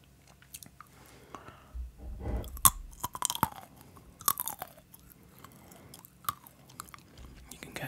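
Almonds crunched up close in an ASMR eating session, a series of sharp cracking bites and wet chewing that gradually softens, with no talk.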